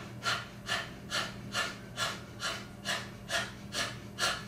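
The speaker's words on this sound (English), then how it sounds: "open your mouth, stick out your tongue, and pant" Rhythmic open-mouthed panting during breath of fire breathing practice, about ten quick, even huffs in a steady pulse, close and clear with no other sounds.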